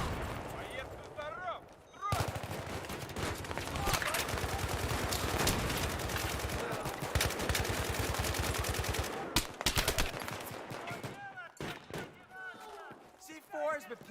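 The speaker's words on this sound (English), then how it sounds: "Everybody just starts using like machine guns." Sustained machine gun fire in the video game Battlefield 3, dense rapid bursts with loud impacts and explosions, continuous and heavy, briefly dropping out before resuming, with some voice mixed in.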